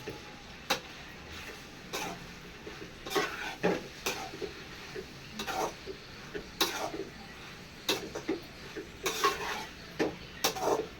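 Pasta gets tossed through masala in a pan, with repeated light scrapes and clinks from a spoon at an irregular rhythm over a faint sizzle, and no voices.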